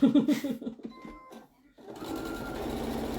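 A sewing machine stitches a quilt block in a quick run of rhythmic mechanical beats, pauses briefly, then starts again with a steady, continuous whirr.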